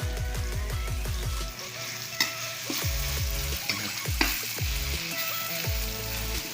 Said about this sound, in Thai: ผัดให้หอมเลยนะครับ